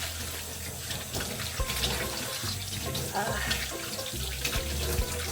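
Fabric dyed with black beans rinsed under a running tap, a steady splashing stream of water into a sink with faint low-pitched voices in the background.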